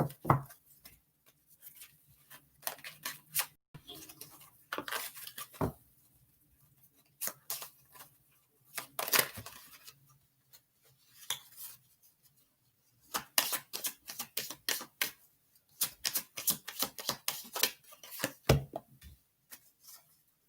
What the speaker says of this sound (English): we're just going to shuffle them with these few cards